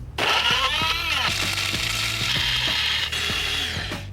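A laboratory grinder breaks up food samples with loud, close ratcheting and grinding. The clatter stays dense and mechanical throughout, with repeated pitched whines as the blades catch and spin.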